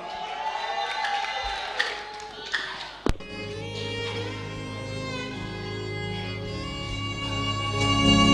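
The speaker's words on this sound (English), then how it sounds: "Let's shout, let's clap for them as they come." Church congregation at an Easter convention shouting and clapping to welcome ministers, a dense crowd roar with scattered claps and cheers sustained throughout, swelling slightly toward the end.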